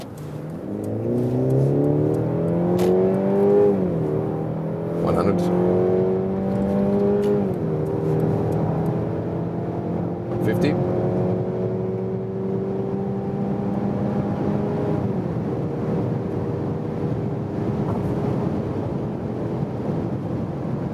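A Mercedes C-Class C300 4MATIC accelerates hard on the German Autobahn, its engine note climbing steadily through several gears with brief dips at each shift, loud and continuous over road and wind roar.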